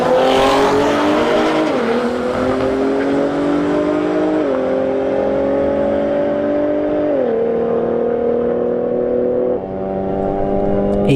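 A Honda Civic Type R roars down a drag strip at a Bradenton motorsports park test-and-tune, its loud, steady engine note climbing in pitch and dropping sharply at each of several upshifts, close and continuous.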